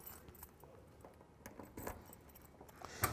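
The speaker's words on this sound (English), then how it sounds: "I had 5 keys to choose from and got the first one." Set of car keys for a 1966 Ford Mustang convertible jangling while one is picked out, soft repeated metallic clinks, close and quiet, ending in a sharper click.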